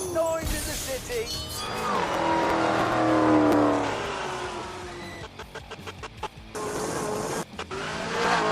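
Roaring engine of a 1,000-horsepower Hennessy-tuned Camaro in the Grand Tour video game. It revs up loudly, holds and sweeps in pitch, then breaks into choppy bursts and gear shifts.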